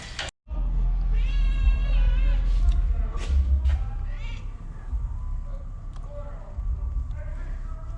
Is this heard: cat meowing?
yes